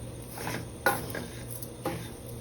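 Breadcrumbs being toasted and stirred in a tablespoon of melted butter in a saucepan: soft scraping and a few light clinks of a utensil against the pan over a faint sizzle, close up and with no talking.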